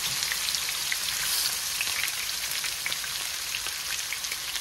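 Chicken fried cauliflower rice cooking in a pan gives a steady, even hiss of sizzling that sounds like rain, with faint crackles scattered through and no talking.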